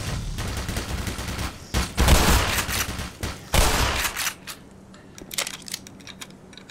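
Automated turrets in the video game Black Mesa fire dense, rapid bursts of gunfire in an office complex, loud and sustained for several seconds before thinning into scattered shots.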